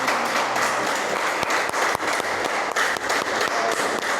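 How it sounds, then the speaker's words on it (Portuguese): A church congregation claps together in a sustained, dense round of applause with occasional louder thumps, filling the room without pause. "Aplauda, mas você vai aplaudir"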